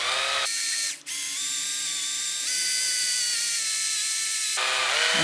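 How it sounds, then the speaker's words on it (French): A drill bores through a length of elder wood to hollow it into a pipe, giving a steady, close, high-pitched whine that dips out for an instant early on, then runs on evenly, with no talking. "Donc moi, je perce un peu d'un côté,"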